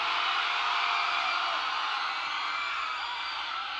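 A concert crowd at a live show on the Municipal Terrace in Tiwi, Albay, shouts and screams in a dense, continuous wash of voices, loud and unbroken for the whole stretch.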